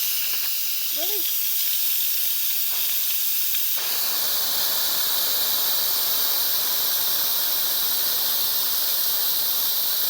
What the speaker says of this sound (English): So we're going to release the pressure.